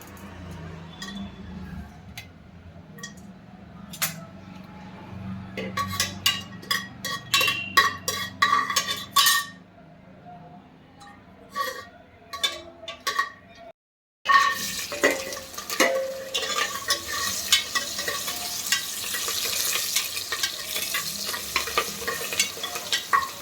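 Whole spices, cinnamon, cloves, chillies, cashews and bay leaf, spluttering in hot ghee and oil, with spoon scrapes and clinks against the pan, then a denser, louder crackling sizzle after a brief gap.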